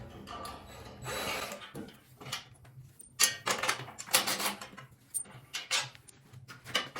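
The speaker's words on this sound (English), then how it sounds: "You need a 16 and a 17 millimeter wrench to do that" Wrench ratcheting and clanking while frame bolts are removed on a Bradley 36 inch hydro walk-behind mower during assembly, irregular bursts of metallic clicks and scrapes, close and fairly loud, with short pauses between them.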